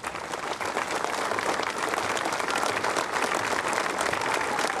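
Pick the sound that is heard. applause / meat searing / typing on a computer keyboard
applause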